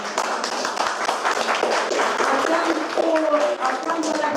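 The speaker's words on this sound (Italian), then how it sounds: "Un applauso, grazie." Applause from an audience at an art exhibition, a continuous patter of many hands for a few seconds with voices murmuring beneath.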